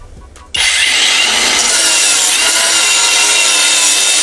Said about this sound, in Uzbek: Number One brendidan akkumulyatorli bolgarkani tavsiya qilamiz